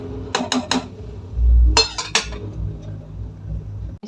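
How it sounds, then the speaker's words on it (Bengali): Rice is stirred in a cooking pot with a metal utensil, giving a few sharp clinks and scrapes against the pot, then a heavier clatter. The sounds come close and clear, with no talking. "ভাতটা একটু নেড়ে দিয়ে যায়।"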